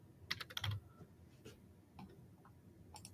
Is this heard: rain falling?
no